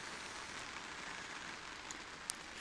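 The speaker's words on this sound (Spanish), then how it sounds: "Les está lloviendo y lo agradecen." Rain falling on vegetable and strawberry plants in pots in a home garden, a steady soft patter with a few distinct drops landing nearby.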